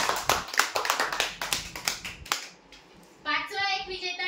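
An audience breaks into applause for a prize winner at a weekly lottery draw: a burst of rapid clapping that thins out and fades after about two seconds, followed by a voice starting to speak.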